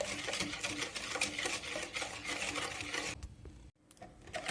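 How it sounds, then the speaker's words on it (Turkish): Eggs and sugar are whisked in a bowl for a wet cake batter, producing rapid, rhythmic clicking strokes up close that continue steadily and break off briefly near the end. "Yumurtayla şekerimi ince erittim."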